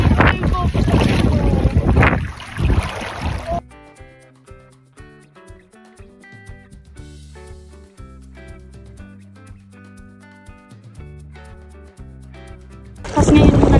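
Wind-blown rush of a bangka boat moving across water near Malasugui Island, loud at the start and end, with music playing in the quieter middle stretch.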